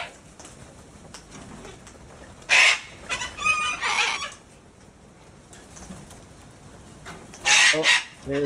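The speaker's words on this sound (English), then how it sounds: "That's a lot of hungry birds." A flock of hungry birds including chickens, with bursts of clucking and squawking calls rising in two loud clusters over quiet background ambience, close by.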